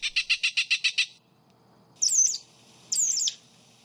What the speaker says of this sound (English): This device emits a distressed bird sound that keeps the otherwise welcome creatures away.